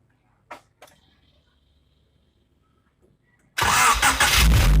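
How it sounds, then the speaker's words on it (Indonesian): Honda Civic Estilo engine cranking and catching into a loud, steady idle after a few faint clicks, heard up close in a workshop during a TDC sensor check. "sekarang kita hidupkan mesin"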